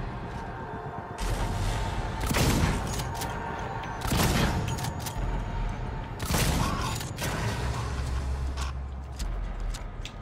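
Shotgun fire in the video game Alien: Isolation: three heavy blasts about two seconds apart, each a loud broadband boom, over a dense, continuous rumbling game soundscape.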